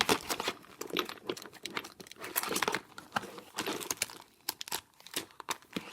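Nail foils handled and shuffled in a storage drawer, producing close, irregular crinkling and rustling bursts with brief pauses between them.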